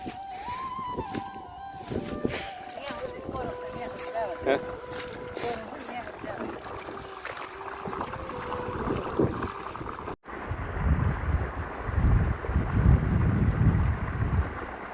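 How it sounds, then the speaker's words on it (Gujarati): Well water runs through an irrigation channel in a groundnut field, a steady outdoor rush and gurgle with wind buffeting the microphone, growing louder and rougher toward the end. "તો આવી રીતે આ પાણી હાલે છે"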